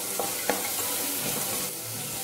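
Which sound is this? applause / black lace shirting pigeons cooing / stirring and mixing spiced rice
stirring and mixing spiced rice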